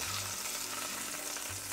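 Beef strips for beef stroganoff fry in a hot pan with a steady, dense sizzle and no voices, broken only by faint low hum or bumps near the start and end.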